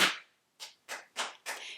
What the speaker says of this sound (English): That deserves 2 snaps.